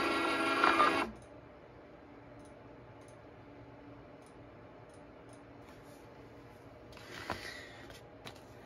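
A Zebra GX420D label printer feeds a label in two short mechanical whirring bursts, one at the start and another near the end, with quiet room tone between.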